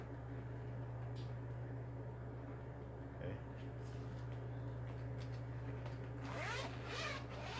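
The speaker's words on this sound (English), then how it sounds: "This is the zipper type. I'll show you the zipper here." A quiet zipper on a trading card binder being pulled in short runs, ending in a quicker rasping stretch over a low steady background hum.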